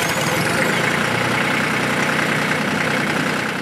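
A TYM 2515 compact tractor's 24-horsepower diesel engine idling steadily close by, a continuous rough low rumble with constant loudness throughout.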